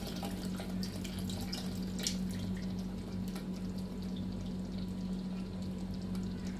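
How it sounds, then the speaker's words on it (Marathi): Tamarind water pouring into a thick crab curry in a pot, a steady close splashing stream that stays even throughout, with a low hum underneath. "आता आपण ह्याच्यामध्ये चिंचेचं पाणी सोडणार आहे"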